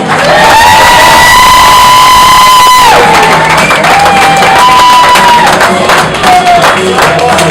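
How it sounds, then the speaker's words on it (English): A comedy club audience cheers, whoops and claps loudly for a comedian, a dense, close roar with high shouts rising over it. "and now a round of applause for Mr. Jim Hill."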